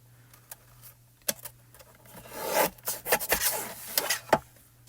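Scraping, rasping cuts through card stock being trimmed to size for a stamp and die craft project, soft at first and then a denser run of strokes, close-up with no voices.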